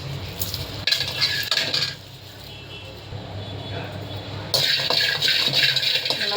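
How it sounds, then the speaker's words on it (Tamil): Unpeeled garlic cloves sauté in a pan with clattering stirring and scraping in bursts, a soft sizzle between them, while someone talks over the cooking. "இந்த மாதிரி பூண்டுக்கு பல்லெல்லாம் எடுத்து நல்லா கொஞ்சம் லைட்டாக வதக்கிக்கலாம்"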